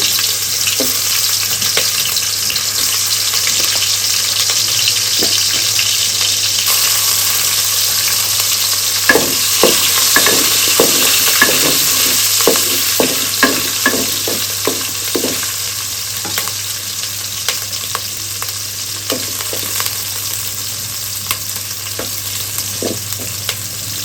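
Garlic fries in oil in a pot, giving a loud, constant sizzle with a run of sharp crackles and spatula taps partway through.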